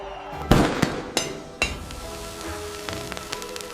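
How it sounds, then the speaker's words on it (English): Fireworks bursting outside a window, heard as a few sharp separate bangs followed by crackling and sizzling that fades into a steady rain-like hiss. "He watched the fireworks from his window."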